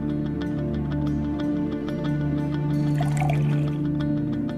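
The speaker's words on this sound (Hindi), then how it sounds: "कबीर, बस करो, और कितना पानी पियोगे?" Water poured into a glass, a soft trickling fill heard under a steady background hum and music-like tones, close but not loud.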